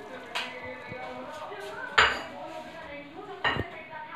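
Soaked whole red chillies tumble into a blender jar, giving three sharp clinks and knocks at roughly 1.5-second intervals over a quiet kitchen background.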